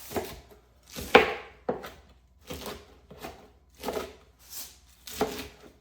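Lettuce being chopped with a coated knife on a cutting board, about eight crisp crunching strokes at an uneven, unhurried pace, close and clear with near silence between cuts.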